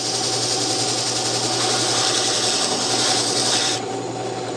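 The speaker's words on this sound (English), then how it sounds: "I'm putting a little bit of a moderate pressure up against the spindle here" A spindle sander grinds against a wooden bandsaw box with a steady rasping whir under moderate pressure, loud and close, then the abrasive contact drops off near the end while the machine keeps running.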